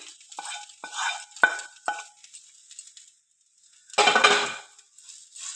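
Sautéed okra for a curry is stirred in a pan, with several sharp utensil scrapes and clinks against the metal, a brief pause, then a burst of sizzling and stirring, moderately close.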